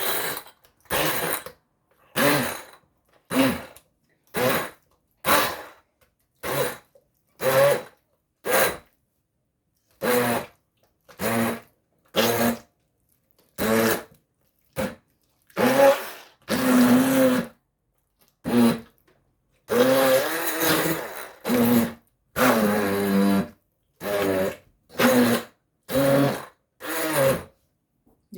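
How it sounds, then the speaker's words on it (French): An immersion blender whirs through mashed banana foutou in short, loud on-off pulses, about two dozen bursts separated by brief silences. "je vais mixer le tout à l'aide de mon mixeur plongeon"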